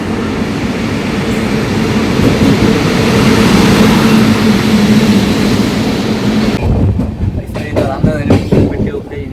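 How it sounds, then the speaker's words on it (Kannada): The Gol Gumbaz Express rolls into a station with a loud, continuous rumble and rattle of wheels and carriages that eases off toward the end. "ಗೋಲ್ ಗುಂಬಸ್ ಎಕ್ಸ್ಪ್ರೆಸ್ ಈಗ ಬಂತು."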